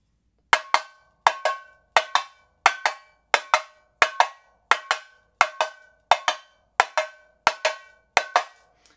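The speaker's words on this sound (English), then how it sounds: "I want the same sound from the down and the upstroke" Bright, sharp metallic hits on a tamborim, twelve evenly spaced down and up strokes in a steady alternating rhythm, each ringing briefly, no voices.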